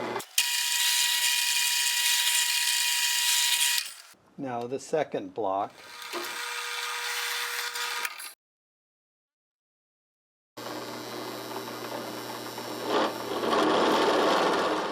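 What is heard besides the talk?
drilling wood blocks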